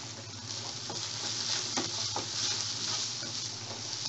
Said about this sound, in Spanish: ahora le voy a poner media cebolla cabezona picada